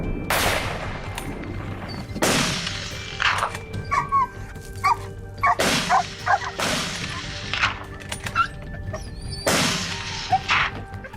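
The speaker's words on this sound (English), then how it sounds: "the excited barking of our hunting dogs echoed through the forest" Hunting dogs bark excitedly in a forest during a wild boar hunt, sharp separate barks and yips about every second or two, echoing and fairly distant, with sharp cracks mixed in.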